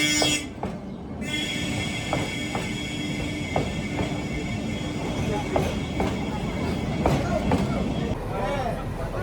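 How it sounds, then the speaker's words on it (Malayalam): Nilgiri mountain train on the Ooty to Coonoor line drawing near: a steady rumbling rail roar with periodic clicks and clanks of the wheels, continuous and fairly close, with people talking over it. "അങ്ങനെ ട്രെയിൻ വന്നുകൊണ്ടിരിക്കുന്നുണ്ട്"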